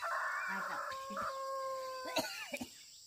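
A rooster crows near a rural chicken coop, one drawn-out call that fades, followed by a few short sharp knocks, all fairly faint against quiet background.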